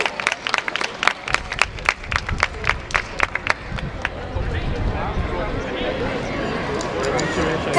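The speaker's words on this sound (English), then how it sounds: "Let's give her a round of applause." Audience applause at a community values walk event in Toronto for a grade 7 student speaker, beginning as sparse separate claps that build into steadier crowd clapping.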